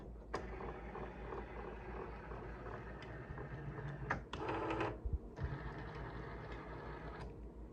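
Cricut cutting machine powering up and getting ready, with a faint mechanical whir, small clicks and a brief louder motor burst mid-way over a low hum.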